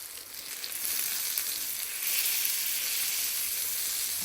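Fish sizzles in a frying pan with a continuous, even hiss of hot oil, close and steady throughout, with no talking.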